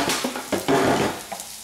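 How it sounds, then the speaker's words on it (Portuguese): Onion goes into a pan of melted salted butter with a clatter of metal and utensils, followed by a soft sizzle, close and moderately loud. "Cebola na panela."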